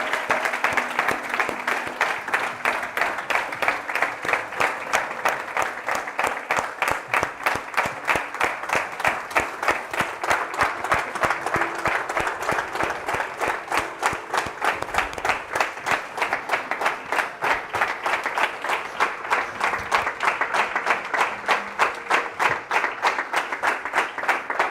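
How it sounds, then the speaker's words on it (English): Audience at a spiritual gathering in rhythmic unison applause, a long, steady, evenly pulsed clapping that carries on for over twenty seconds without talk. "A big round of applause to Brother Satyajit."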